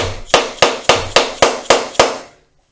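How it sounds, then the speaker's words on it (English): A rubber hammer filled with shot strikes an airbox part on a Honda CBR400 motorcycle. Seven heavy, dead thuds land close up in an even rhythm with no bounce, and nothing else is heard. "it's a rubber hammer, but as you can hear, it's filled with shot"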